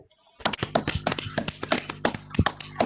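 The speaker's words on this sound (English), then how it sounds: "let's give a round of applause" A handful of people clap in a quick, uneven rhythm of sharp close claps, a round of applause for an under-20 football squad, starting after a brief quiet moment and continuing to the end.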